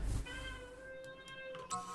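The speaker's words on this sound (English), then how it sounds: "Sorry, that's my cat in the background." A house cat meows in the background, a single drawn-out tonal cry lasting over a second, faint and distant, with a brief rustle near the end.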